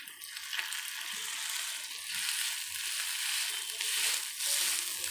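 Cooked rice stir-fried in a pan with fried okra on low heat, a steady bright sizzle with rhythmic scraping and stirring strokes, close up and without talk.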